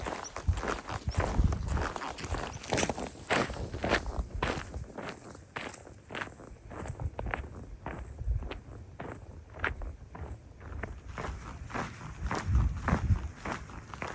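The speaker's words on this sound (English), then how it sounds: "listening to the rhythm of my own footsteps." Footsteps of a lone hiker crossing the Scottish Highlands, a steady rhythmic crunch of boots close by, each step distinct, with light wind in the background.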